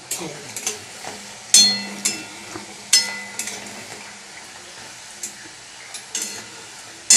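Food fries in hot oil while tomato sauce is being made, a soft sizzle broken by repeated clinks and scrapes of a utensil against the pan, with someone speaking over it.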